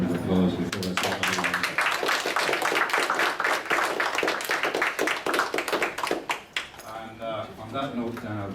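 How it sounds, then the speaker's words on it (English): A small audience at a live talk in Bellmore gives a round of applause, many hands clapping steadily for several seconds before it tapers off, with voices chatting underneath. "we should all give her a round of applause before I start"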